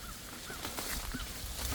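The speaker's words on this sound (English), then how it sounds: "I don't know if you could hear the chickens in the background." Chickens cackle faintly in the background after one has laid an egg, a few distant calls over a steady outdoor hiss in a food forest.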